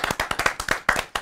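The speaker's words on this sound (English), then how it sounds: "Round of applause for IVD." Studio applause for a guest on a talk show, a short run of quick, close hand claps from a small group, fairly quiet.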